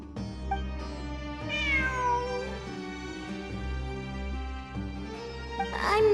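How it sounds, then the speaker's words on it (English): A cat meows in the video game Genshin Impact: drawn-out, wavering meows rise and fall over a sustained low musical background, loud and close. "I'm not hearing things. It really is a cat."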